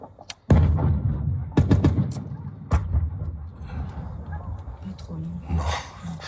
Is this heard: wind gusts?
no